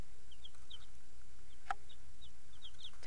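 Six young New Hampshire Red chicks, two roosters and four hens, give soft, high repeated peeps in short clusters, with a single sharper click partway through and a quiet background otherwise.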